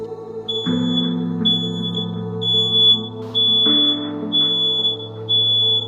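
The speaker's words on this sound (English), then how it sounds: "set off one of the smoke alarms which is in the hallway" A shrill, high-pitched hallway smoke alarm beeps in rapid repeated pulses over a steady low hum, loud and continuous throughout.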